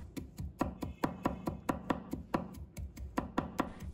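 Garlic being minced with a knife on a cutting board: quick, regular chopping taps that repeat steadily and sound close, alone without speech.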